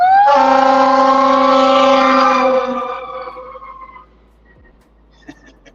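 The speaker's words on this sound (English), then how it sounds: "Guy's trying to run him over in the fire engine." A fire engine siren blares loud and close as one steady wailing tone, then winds down and fades out over a few seconds, leaving near silence with a faint clatter afterward.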